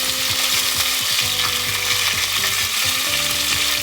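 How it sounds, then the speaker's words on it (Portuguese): Chicken pieces searing in a hot soapstone pan for a Minas Gerais-style galinhada, a continuous bright sizzle with scraping clicks of a utensil stirring the meat, close and steady with no voices. "Vou colocar mais frango aqui para selar."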